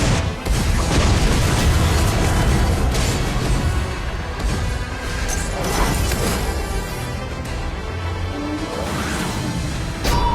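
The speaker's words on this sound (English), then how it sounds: "Your team has destroyed a tower" A tower being destroyed in the mobile battle game RoV, amid a loud, dense wash of game combat booms, crashes and bursts that continues without pause throughout.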